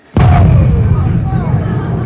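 A stage cannon fires once in an outdoor historical spectacle, a sharp, loud boom at the start that rolls into a long, heavy rumble and fades slowly over the following two seconds.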